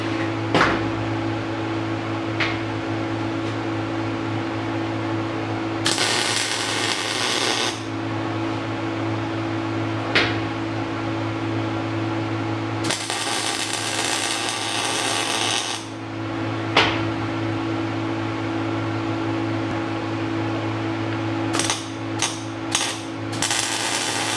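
Tack welding on an SM465 4-speed shifter modification: a few short crackling bursts of welding and some clicks over a constant mechanical hum in a workshop, with a quick series of brief tacks near the end.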